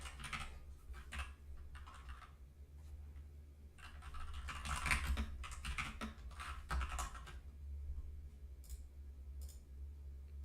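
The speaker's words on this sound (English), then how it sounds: "Probably can hear my keyboard being really loud." A computer keyboard clatters with steady, quick typing bursts during a Windows 8.1 installation, close and fairly quiet over a low constant hum, with no talk.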